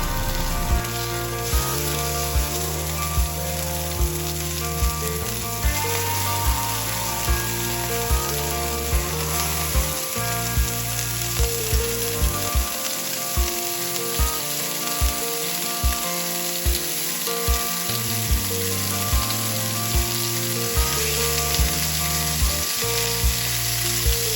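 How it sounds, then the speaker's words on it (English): Beef sears in high smoke point oil in a hot cast iron skillet, giving a loud, continuous, close sizzle and crackle with faint periodic ticks and no talking. "Add a high smoke point oil to a hot cast iron skillet. Here we're going to sear the beef."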